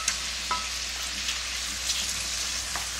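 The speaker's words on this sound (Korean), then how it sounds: "마늘종을 볶을 때에는 중불이에요. 중불인 상태에서 달달달달 볶아주시면 되세요." Garlic scapes sizzle in a pan over medium heat, a steady moderate frying hiss with a few soft clicks of stirring scattered through it.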